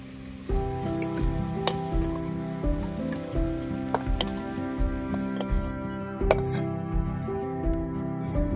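Potato pieces fry in hot oil in a home kitchen while a mutton curry is being cooked, giving a low, steady sizzle, with repeated sharp clinks of a utensil against the pan over it.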